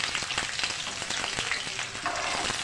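Onions fry in hot oil for Indian aloo palak bhujia, with a dense, continuous sizzle and crackle close by and scattered small pops throughout.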